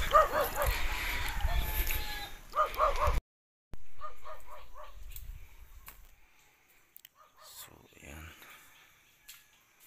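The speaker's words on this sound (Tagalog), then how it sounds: "So ang ingay ng aso, nakadistract." A dog barks repeatedly in short bursts at a middle distance at a white-sand beach, with a gap of quiet, then fainter yips and whimpers trailing off.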